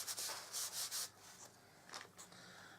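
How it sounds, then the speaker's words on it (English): An embossing buddy is rubbed over card stock in a few quick strokes, making soft, close scuffing swishes that fade into quieter brushing. "I'll get my embossing buddy and give that a rub."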